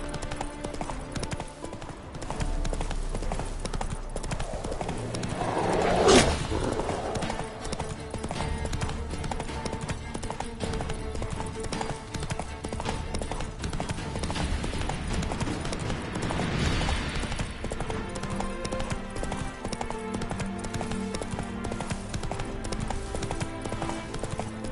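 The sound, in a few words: horse Roach galloping, hooves clip-clopping, from a video game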